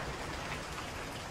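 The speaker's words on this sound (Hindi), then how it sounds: "अभी भी बारिश हो रही है इतनी मस्त." Rain falling steadily in Goa, a soft, even hiss of drops with no breaks and no voices, at a moderate, constant level throughout.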